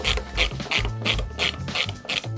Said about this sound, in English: when I'm undoing these screws holding in the windscreen